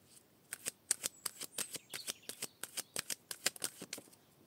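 Tarot cards being shuffled and drawn, giving a quick run of crisp snapping riffles and flicks, close and fairly quiet, with no talk.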